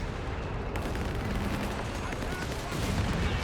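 A continuous, dense rumble of artillery barrage in Company of Heroes 3, with overlapping booms and gunfire layered into a steady, loud battlefield roar.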